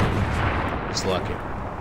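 Unsuppressed gunfire in the shooter game Warzone booms in a short, dense burst, loud and close, with a voice faintly underneath.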